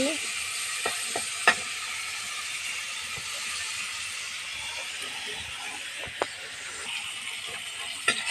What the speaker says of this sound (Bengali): শুটকিগুলি বেজে নিচ্ছি ওগুলি ভেজে নিচ্ছি ভালো করে লাল লাল করে ভেজে তুলে রাখবো